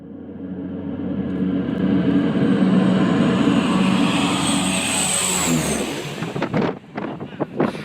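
Small airplane on a short runway, its engine droning loud and steady as it builds and passes, then fading into a series of rough thumps and rattles near the end.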